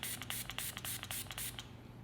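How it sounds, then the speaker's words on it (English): A fragrance spray bottle's pump sprayer fires a quick series of about eight short, close hissing bursts in a steady rhythm, then stops. "you could spray for days without getting interrupted"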